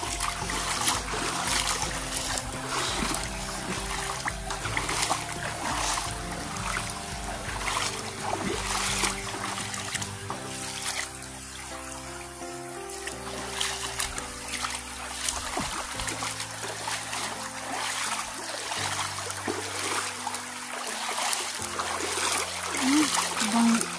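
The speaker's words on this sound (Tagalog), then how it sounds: "Nandito sa tabing ng ilog." River water trickles and splashes steadily along a bamboo-lined riverbank, with a continuous low wash throughout and people talking over it.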